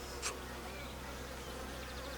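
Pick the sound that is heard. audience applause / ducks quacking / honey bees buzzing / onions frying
honey bees buzzing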